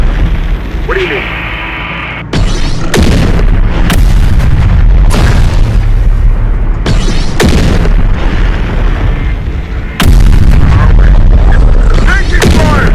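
Gunfire and booming explosions from the Terminator Dark Fate Defiance video game, loud repeated bursts and blasts over about thirteen seconds, with shouted voices in between.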